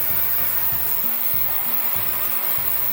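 Ultrasonic cleaner switched on with its heater, giving a steady loud hum with a repeating pulsed buzz roughly every half second, close and with no talk.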